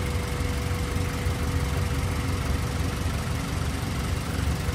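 A Honda B16 engine idles steadily at close range, a constant, even mechanical hum and rumble with no revving and no voices.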